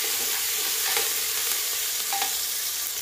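Onion, red and green chillies, peanuts and curry leaves frying in a pan, producing a loud, even sizzle that fills the whole moment with a couple of faint stirring taps, no voices.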